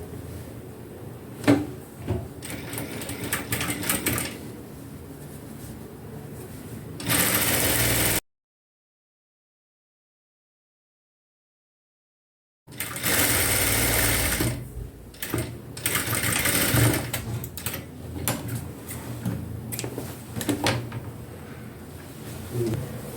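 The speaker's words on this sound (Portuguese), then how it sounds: "Agora, eu vou passar uma costura de 1 centímetro" A sewing machine runs in bursts, stitching a 1 cm seam on a dress, its motor humming and needle rattling close by, broken by a silent gap midway and lighter handling noises between runs.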